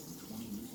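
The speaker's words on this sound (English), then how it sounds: "Rinse it off." Dishes are rinsed under a running kitchen tap, with a soft, steady rush of water, faint and close, for under a second.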